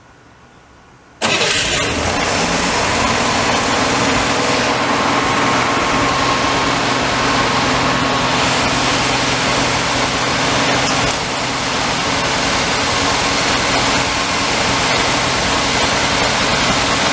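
A 1963 Chevrolet Corvair Monza's engine cranks and catches, then holds a loud, steady high idle for a long stretch, close by, with a slight drop in level partway through.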